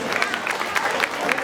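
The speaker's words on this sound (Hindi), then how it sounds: "तो ताली बजाएंगे, कब बजाएंगे?" Audience applause and scattered clapping at a Ramlila stage performance held at a park ground in Mumbai, a steady crowd clap of moderate loudness lasting the whole moment with some murmuring mixed in.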